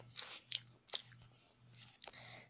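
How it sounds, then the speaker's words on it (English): Jelly pops chewed loudly close to the mouth, several moist crunchy bites and squelches in an uneven rhythm over a low steady hum, with no talk. "chewing some jelly pops in my mouth"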